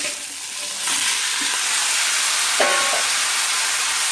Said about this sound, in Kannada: ಜಂಜಿ ಪಾಡ್ದು ಮಿಕ್ಸ್ ಮಾಡ್ತೇವೆ.